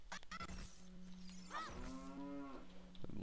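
A cow in Zelda Ocarina of Time lets out two clear moos over a low steady game tone, close and fairly quiet, with small crunchy effect sounds around them.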